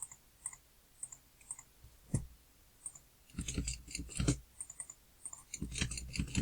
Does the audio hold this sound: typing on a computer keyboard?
yes